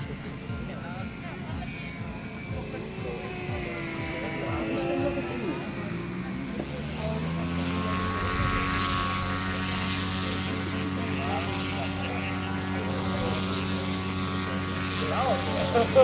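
Aerobatic aircraft engine drone that rises and fills in, a steady propeller hum building as the plane passes overhead at a children's day event, with voices talking over it.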